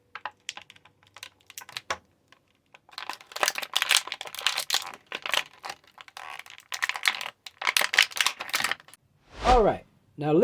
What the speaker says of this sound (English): And now, let's get him out the packaging.